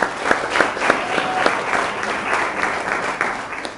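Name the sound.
applause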